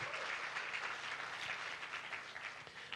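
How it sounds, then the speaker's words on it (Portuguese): A church congregation claps together during a sermon, a dense, even applause from many people with a slightly distant, roomy sound, continuing steadily without speech over it. "Dá uma salva de palmas a Jesus."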